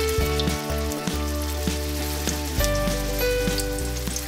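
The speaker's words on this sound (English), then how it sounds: "shape it into a bowl and put it in the pan to fry" A pork lion's head meatball fries in a hot pan, giving a loud, close, continuous sizzle with frequent crackles and spatters under a steady background hum.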